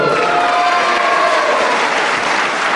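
Wrestling crowd applauding and cheering loudly after a fall, steady dense clapping mixed with whoops filling the whole stretch, close and sustained with no commentary over it.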